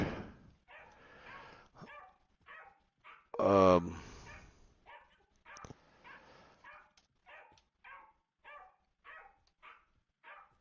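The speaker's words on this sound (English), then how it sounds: "that is an annoying little dog" A small dog in the driving game Drive Beyond Horizons barks repeatedly in short, sharp yaps at a steady pace, with one louder burst midway, while someone talks over it.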